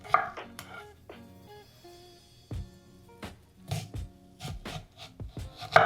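A knife cuts a cucumber into quarters on a cutting board, giving a series of irregular, close thuds and scraping strokes against the board with brief pauses between cuts.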